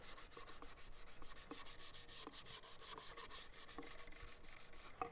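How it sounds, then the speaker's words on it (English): A red Scotch-Brite pad scrubs back and forth over a hydrodipped shotgun finish, making quiet, rhythmic rasping strokes that repeat steadily and close by. "So what I have is a red Scotch-Brite, and I'm just going to basically go over this."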